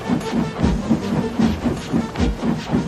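A steam engine chuffs and hisses in a steady rhythmic puffing, about a dozen regular beats over a low rumble of rolling motion, close and moderately loud.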